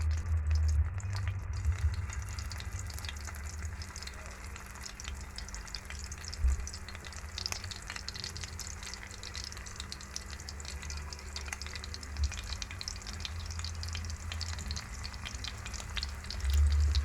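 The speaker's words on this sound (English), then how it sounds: "I'm going to fry each side for about 3 minutes" Corned beef meatballs fry in a small amount of oil over a medium flame, giving a soft steady sizzle with faint crackles and a low background hum, fairly quiet and with no talking.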